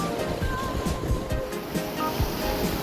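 Sea waves break and wash along a rocky shore near Laem Chabang, a continuous rushing surf with rolling swells, close and fairly loud, with no voices.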